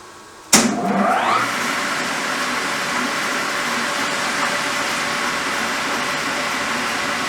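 Metal lathe on a BSA B50T motorcycle rebuild spinning up and machining a part held in a set-right chuck, starting abruptly with a sharp onset and settling into a steady, loud broadband whir.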